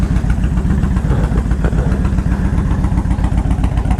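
A 2000 Harley-Davidson Ultra Classic with 78,000 miles and aftermarket pipes idles close by, a loud, deep, steady lumpy thump with an even rhythm throughout and no talking.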